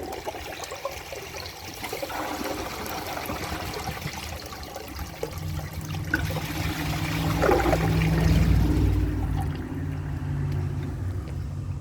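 A 2003 Mancesa toilet flushes with a dish towel in the bowl, a rushing water swell that builds, peaks and then settles into a steady trickle as the tank refills, close and fairly loud.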